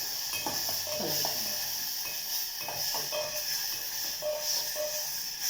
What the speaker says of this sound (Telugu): టమాటా ముక్కలు వేసిన తర్వాత కొంచెం కానీ స్టవ్ చిన్నగా చేసి కలుపుతాను.